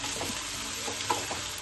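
Ginger, grated coconut and tomato with salt and turmeric sauté for cholar dal, giving a steady close sizzle with soft stirring swells in the pan.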